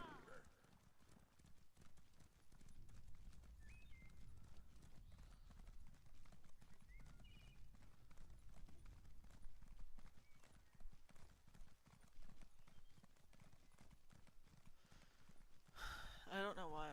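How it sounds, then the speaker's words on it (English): Horse hooves clip-clop in The Elder Scrolls Online, a steady rhythmic trotting under a player's quiet talk, with faint game sounds layered in. "Okay, then we're gonna get on the horse."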